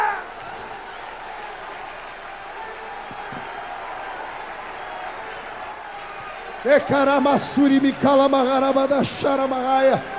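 A church congregation claps in worship as a continuous soft patter for several seconds. Then a loud, amplified voice comes in over the clapping and dominates the rest.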